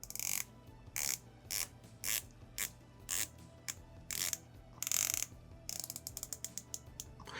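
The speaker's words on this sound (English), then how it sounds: "120 click bezel, let's listen to that." A 120-click dive watch bezel being rotated, producing bursts of crisp ratcheting clicks separated by short pauses, ending in a rapid run of tiny clicks, close and isolated.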